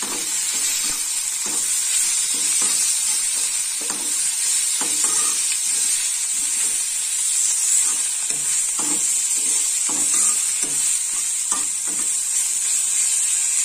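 Bitter flowers frying and being stirred in a pan, a steady close sizzle and hiss with repeated scraping stir strokes throughout.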